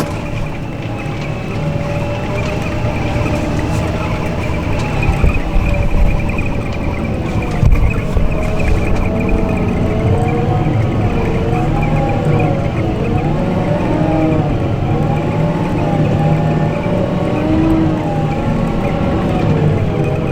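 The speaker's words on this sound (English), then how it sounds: "So just running the tractor off the pedal so we can sort of vary our speed a bit." A tractor engine drones steadily while its hydraulics work in a dirt-moving job. A wavering whine sits over the running engine as the speed changes on the pedal, and no one speaks.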